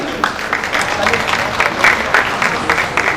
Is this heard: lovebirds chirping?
no